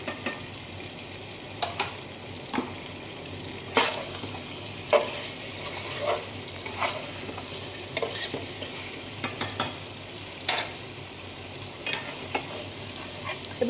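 Chicken pieces for biryani stirred in sizzling ghee: a continuous frying hiss broken by sharp clinks and scrapes of a spoon against the pot at irregular intervals, close and clear with no talking.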